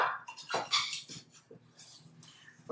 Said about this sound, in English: Get in there with that spatula.